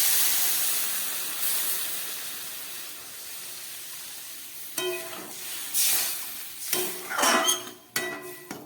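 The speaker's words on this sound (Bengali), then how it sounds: "এর মধ্যে জল দিয়ে দিচ্ছি" Water is poured into spices frying in a pan for a thin fish curry, bringing a sharp sizzle and hissing steam that surges in several loud bursts after a quieter start.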